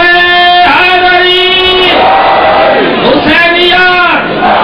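A large crowd roars a religious slogan in unison at a Shia gathering in Multan, loud, sustained chanting in drawn-out waves with a brief dip before swelling again.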